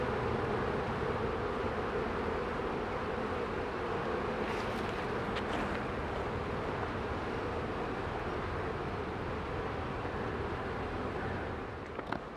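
Continuous buzzing hum of honeybees flying around their hive, a dense, steady drone of many insects at moderate volume with a few brief sharper sounds and no speech.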